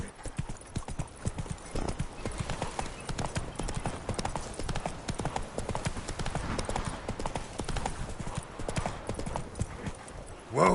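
The horse Roach trots in The Witcher 3, with steady, rhythmic hoofbeats clip-clopping close and clear for the whole stretch. A rider's voice comes in faintly at moments.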